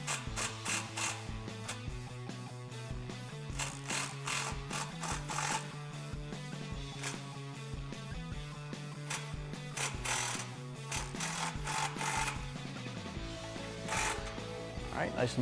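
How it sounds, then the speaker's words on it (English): Ratchet wrench with a 15mm socket tightening an exhaust clamp on a 2008-2014 Dodge Challenger 5.7L HEMI, a fast, close, continuous clicking of the pawl in quick back-and-forth strokes, with a person talking over it. "we're going to grab our 15mm socket and just tighten down this so it's nice and snug"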